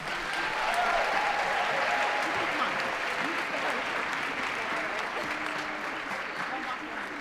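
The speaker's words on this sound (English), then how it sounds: "Can we give Benton Middle School one more huge round of applause?" A hall audience gives sustained applause for a middle school choir, thick even clapping holding steady throughout with faint cheers and voices underneath.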